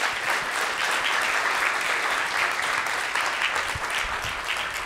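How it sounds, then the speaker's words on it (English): An audience at a MaRS Mornings talk gives a sustained, even burst of clapping that fills the room steadily for several seconds without cheering. "So everyone, please, round of applause."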